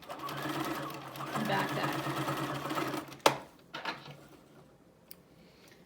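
A sewing machine stitches a fabric face mask in a steady mechanical whir for about three seconds, then stops, followed by a few clinks and light handling noises while a person speaks briefly.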